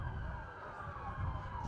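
Emergency vehicle sirens wail faintly in the background at a college football game, a steady distant drone under crowd and field noise.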